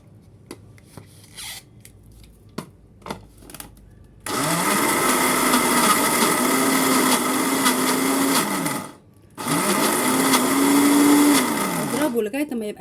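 Blender grinding roasted peanuts into peanut butter, running in two long loud bursts with a brief pause between them, after a few scattered knocks and scrapes at the start.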